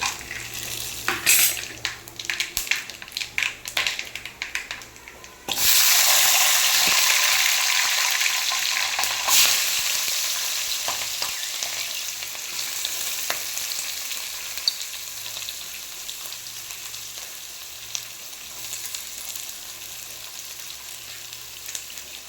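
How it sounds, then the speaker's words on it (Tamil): Cinnamon, cardamom, mace and stone flower hit hot oil and ghee with a loud, steady sizzle that bursts in suddenly after scattered clinks and faint stirring, then settles into a continuous crackling fry. "எண்ணெயும் நெய்யும் போட்டிருக்கேன். கொஞ்சம் எடுத்து வச்சுருந்த பட்டை, ஏலக்காய், சாதிப்பத்திரி, கல்பாசி எல்லாம் சேர்த்து"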